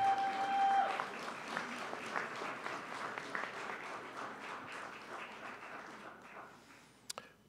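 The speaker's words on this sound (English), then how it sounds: "give them a big round of applause and thank you" Graduates applaud at a community college commencement ceremony, a broad wash of clapping that starts strong and gradually fades to a faint patter before a final sharp tap.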